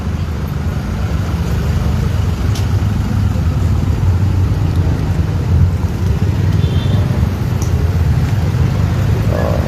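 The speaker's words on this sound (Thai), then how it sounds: "ผมก็รถติดหนาแน่นนะครับ การจราจรติดขัดนะครับ" Continuous traffic-jam road noise from engines and passing vehicles at an intersection, a dense rumbling hum with a faint wind-like rush and no clear voices.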